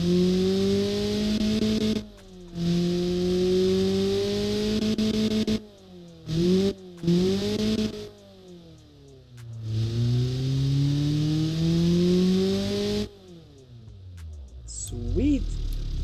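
A Ford Transit van engine with a newly fitted exhaust revs repeatedly, each rise and fall of pitch clearly audible, with short pauses between several long pulls and a brief higher-pitched sound near the end.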